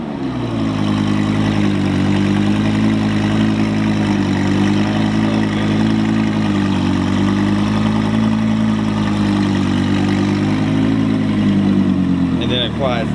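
A V10 supercar engine at a dealership runs with a loud, steady, deep rumble close by, easing off slightly near the end, with voices faintly beneath it.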